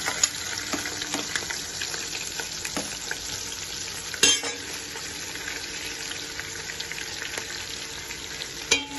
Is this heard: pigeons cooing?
no